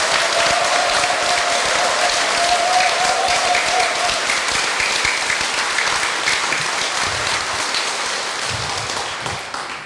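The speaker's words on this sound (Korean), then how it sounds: "열렬한 환영의 박수 부탁드리겠습니다" Catholic parish congregation giving a warm welcoming applause at an anniversary Mass, dense sustained clapping filling the room and slowly tapering near the end, with a faint tone early on.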